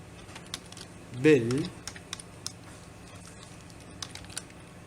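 Python code goes in on a computer keyboard as a scatter of quiet, irregular key clicks, with a brief burst of speech partway through.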